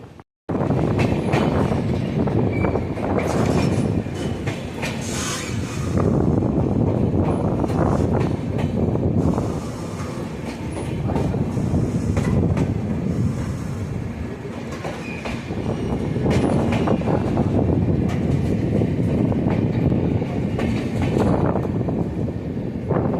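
The 13181 Kaziranga Express from Kolkata to Silghat Town runs at around 130 km/h, heard from inside a 3AC economy coach: loud continuous rumble with wheel clatter, rail squeal and wind buffeting, swelling and easing throughout.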